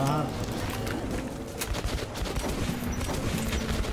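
Shotgun fire and chaotic combat in the video game Metro Last Light, dense crackling blasts and impacts mixed with game sounds while a player talks over it.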